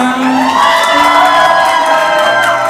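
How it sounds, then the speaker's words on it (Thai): A concert crowd at a live show at TopForm cheers loudly, with sustained shouts and whoops over clapping, a dense, close, unbroken roar of many voices. "ปรมือให้อัพตัวเวิร์มาเฮนิเกนหน่อยได้ไหมจ๊ะ"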